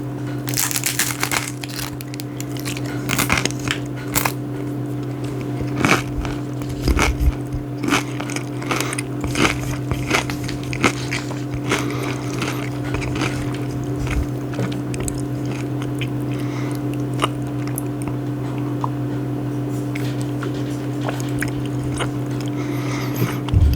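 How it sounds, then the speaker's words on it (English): Close, crisp crunching bites of ceviche recur irregularly through an ASMR-style eating session, sounding over a steady low hum. "So a ceviche for breakfast, that's gonna make a nice crunch."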